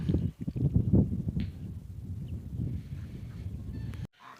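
A flock of geese on a Ukrainian farm honks and chatters continuously nearby in a steady, busy farmyard din.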